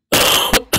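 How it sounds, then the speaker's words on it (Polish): A person coughs during a live game-streaming session: one long rough burst, then two short harsh coughs after brief pauses, close to the microphone with no talking. "I nie mam jak tego kaszlu wyciszyć w ogóle."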